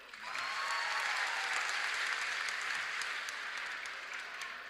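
Audience applause at a campus public lecture and anti-drug launch event, a dense, steady wash of many hands clapping that swells in quickly and holds loud for several seconds before easing slightly.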